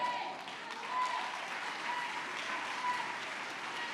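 A church congregation applauds steadily for several seconds, a dense, even clapping that holds at moderate loudness throughout.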